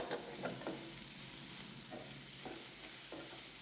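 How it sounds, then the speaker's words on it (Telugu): Cauliflower frying in a pan, a faint continuous sizzle with a handful of soft stirring taps spread across it. "కొద్దిసేపు ఇలా ఫ్రై అవ్వనివ్వాలి."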